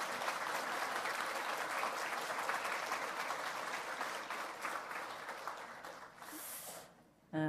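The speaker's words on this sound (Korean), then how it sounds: "우리 박수로 감사 인사드릴까요?" Church congregation applauding at a Korean Salvation Army service, a sustained room-filling clatter of clapping that fades toward the end before a brief pause and a sharp sound.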